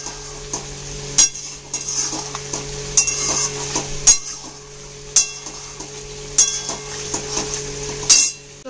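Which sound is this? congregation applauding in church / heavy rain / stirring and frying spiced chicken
stirring and frying spiced chicken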